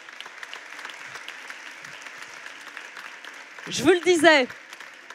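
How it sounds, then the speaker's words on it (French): Scattered applause from an audience at a travel agents' contest final, fairly soft and continuous, followed near the end by someone speaking over the fading claps. "j'aimerais qu'on les applaudisse"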